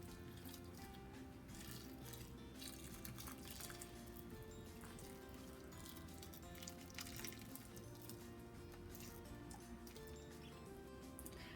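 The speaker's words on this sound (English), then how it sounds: "we're going to pour the mixture right on top of the dumplings." A liquid mixture with vanilla extract is poured over Southern apple dumplings in a baking dish, giving a steady, close wet trickle and splash that runs continuously with no talking.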